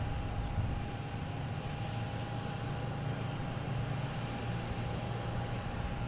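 An airliner drones steadily at Boston Logan Airport with an even, sustained engine roar and a constant whine running through it, and no voices.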